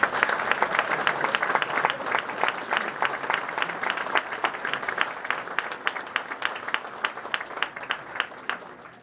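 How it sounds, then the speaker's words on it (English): A crowd at a ribbon cutting for Sun Prairie West High School gives a sustained round of applause, many hands clapping in a quick, even patter that slowly tapers off toward the end. "So a nice round of applause."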